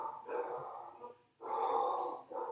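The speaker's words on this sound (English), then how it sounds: "it's my dogs" Dogs barking indoors, two bursts of several sharp barks each separated by a short pause, moderately loud and fairly close, with no speech.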